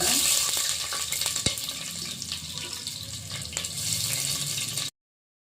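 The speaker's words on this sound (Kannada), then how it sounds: "ನೋಡಿ ಈರುಳ್ಳಿ ಚೆನ್ನಾಗಿ ಫ್ರೈ ಆಗಿದೆ" Onions fry in a pan for a spicy mutton curry with a loud, continuous hiss and crackle and occasional stirring knocks, then the sound cuts off abruptly into silence.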